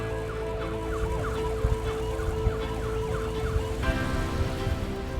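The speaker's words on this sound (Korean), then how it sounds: "대구 확진자들을 실은 구급차가 들어옵니다." Ambulances carrying COVID-19 patients from Daegu arrive in Gwangju with a loud, continuous wailing siren that rises and falls throughout, close and dominant over rumbling traffic, the siren's pattern shifting partway through.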